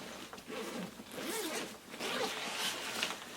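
A bag's zipper is pulled open along its length to reach the inside compartment, a close, steady scratchy zip running nearly continuously with slight pauses, no talking over it.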